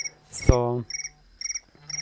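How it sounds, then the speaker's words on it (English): A phone ringtone with a cricket-like chirp sounds in short, repeated trilled bursts, fairly quiet and close, after a brief spoken word. "that's my phone ringing."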